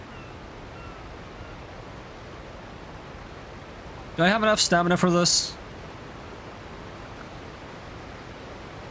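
Steady broadband rush of a waterfall in the Genshin Impact video game, constant throughout, with a brief burst of speech over it midway.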